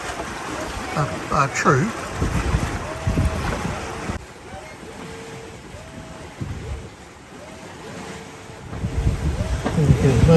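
Wind buffeting a sailing catamaran at sea off New Zealand, with steady gusty rushing and water noise throughout, and people talking intermittently over it.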